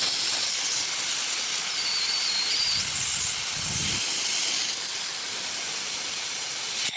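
Honda Click 125i scooter with an overheating fault and coolant being air-tested: a loud, continuous close-up hiss with faint bubbling and a few brief squeals, steady throughout with no talk.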